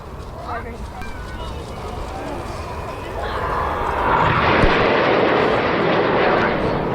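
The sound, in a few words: Red Arrows RAF aerobatic jets performing a break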